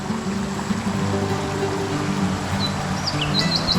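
Steady rushing water from a nearby waterfall at a reservoir campsite in Sa Kaeo, Thailand, during the rainy season, with a few birds chirping faintly over the continuous roar.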